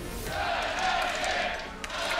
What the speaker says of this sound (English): The crowd is amped.